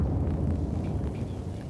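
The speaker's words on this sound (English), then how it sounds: "break of dawn in Baghdad a short while ago brought another air raid and at least one big explosion" Deep, sustained low rumble of a large explosion during a dawn air raid on central Baghdad, a steady heavy roar with no clear onset, loud and continuous throughout.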